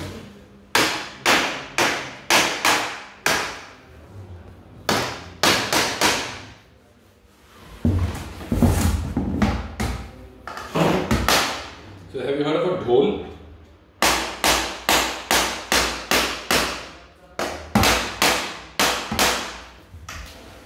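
A plastic hammer strikes the fitting of a hydroponic Dutch bucket in repeated bursts of sharp knocks, several quick blows at a time with short pauses between. A voice speaks briefly in the middle.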